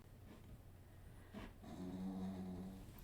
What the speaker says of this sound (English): that dog is snoring